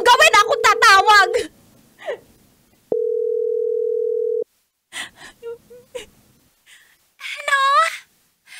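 A phone dial tone sounds as a steady, loud, unbroken hum for about a second and a half while a call is placed, with a voice and sobbing before and after.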